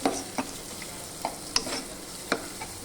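Ginger garlic paste fries in a pan for broad bean curry, a soft sizzle running beneath several light, irregular scraping clicks of a spatula being stirred through it.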